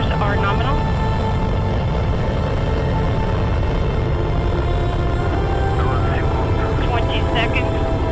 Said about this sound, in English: First stage thrusters are operating nominally.